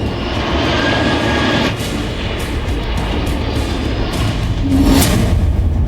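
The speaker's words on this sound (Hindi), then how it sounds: "दुनिया के सबसे बड़े बोइंग विमान की कोशिश भी नाकाम।" A large Boeing firefighting aircraft flies over a forest fire in Chile, its loud, steady engine roar filling the air throughout, with a few rushing swells and no talking.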